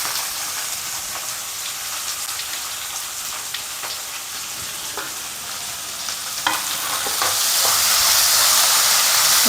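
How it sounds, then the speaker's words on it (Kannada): Carrots and beans fry in an oil-filled pan for vegetable upma, giving a steady broadband sizzle that swells louder toward the end, with faint stirring scrapes and no talk. "ಇದು ಕೂಡ ಚೆನ್ನಾಗಿ ಫ್ರೈ ಆಗಲಿ."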